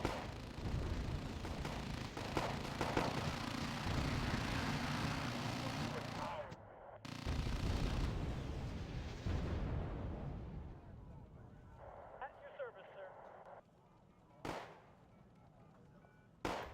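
Artillery shelling of a town in the Wargame AirLand Battle video game: dense, continuous rumbling blasts and booms fill the first several seconds, then thin out into scattered distant impacts and a few sharper bursts.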